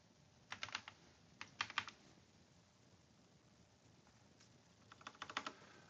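C++ code is typed on a computer keyboard in short quick bursts of clicking keys with pauses between them, quiet and close with no talk.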